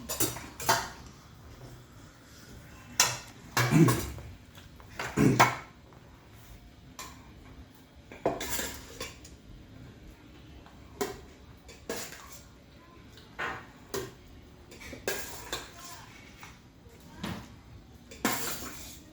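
Bowls and dishes clink and clatter in a home kitchen while rice is served, scattered close knocks and rattles separated by quieter pauses.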